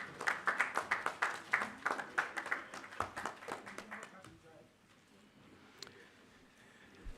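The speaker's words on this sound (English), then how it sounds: "A round of applause for him, please." Audience applause at a parliamentary capacity-building launch event, a burst of many hands clapping that swells for about four seconds and then dies away into quiet room tone.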